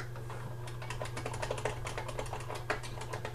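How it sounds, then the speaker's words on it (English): Rapid, uneven clicking of keys being typed on a computer keyboard, close and fairly quiet over a steady low electrical hum, with no talking. "the noise of the keyboard actually does a lot for me"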